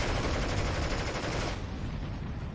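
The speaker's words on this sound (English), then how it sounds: "Giving some covering fire for all the infantry that's moving up." Sustained covering gunfire in the WWII strategy game Steel Division 2, a loud continuous rattle of rifles and machine guns with dense overlapping shots that ease slightly toward the end.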